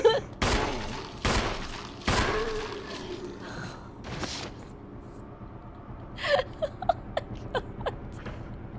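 Gunfire in the Resident Evil remake, several loud sharp shots in the opening seconds, then quieter clicks and small impacts over a low game-ambience rumble, with a few gasps.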